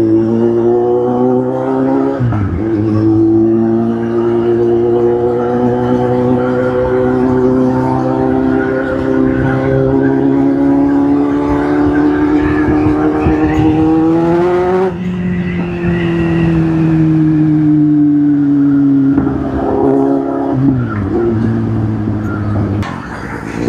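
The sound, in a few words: car exhaust sound in mall parking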